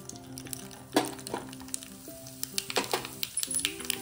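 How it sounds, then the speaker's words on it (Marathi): Mustard seeds sizzle and crackle in hot oil for a rava dhokla tempering, with a steady fry hiss, a sharp pop near the start and scattered crisp crackles and light clinks throughout. "आता मी तेल टाकते इथे, मोहरी टाकते"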